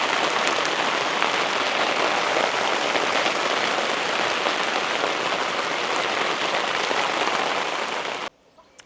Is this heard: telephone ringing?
no